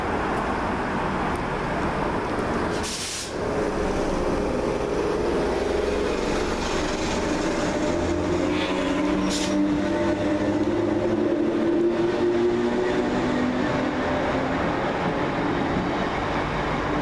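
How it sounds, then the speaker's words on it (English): Northern Rail class 319 unit 319-370 on a Crewe to Liverpool Lime Street service passes through Broad Green station, a steady loud rumble of wheels and motors lasting throughout with brief higher squeals, no talk. "319-370, working the 1514 Northern Rail service from Crewe to Liverpool Lime"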